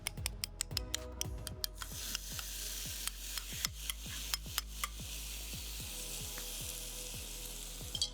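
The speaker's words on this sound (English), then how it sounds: "So while the Yellowtail is getting waffled" Yellowtail (kanpachi) in batter sizzles steadily inside a hot waffle iron, a close, continuous hiss broken by a series of sharp pops and crackles.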